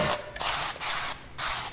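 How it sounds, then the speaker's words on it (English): Olive oil spray can spritzing onto a baking dish in a home kitchen: three or four short hissing bursts in quick succession, close and fairly quiet, with brief gaps between them. "I've got just a little bit of olive oil spray here"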